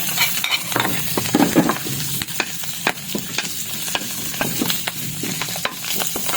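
Garlic fries in hot oil for Bicol express, a continuous close sizzle with frequent clinks and scrapes of a spatula stirring the pan, and no talking.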